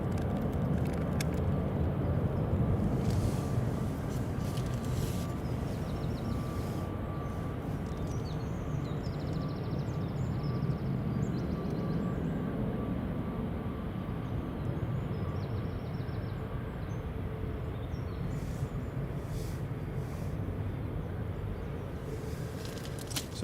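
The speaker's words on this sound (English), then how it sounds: "this EasyJet A320 Neo is heading to Belfast, Aldergrove" An easyJet Airbus A320neo departing Edinburgh Airport for Belfast gives a long, steady engine rumble and roar that stays broad and continuous, gradually easing toward the end, with no talking.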